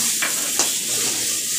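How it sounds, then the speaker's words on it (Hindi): A cup of grated raw mango hits hot tempering in a pan for mango rice, setting off a steady, close hiss of sizzling, with a couple of quick stirring scrapes. "மாங்காய் ஒரு கப் துருவி வச்சிருக்கேன் நானு இத அந்த தாளிப்புல கொட்ட போறேன்"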